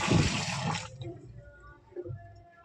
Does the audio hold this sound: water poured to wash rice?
yes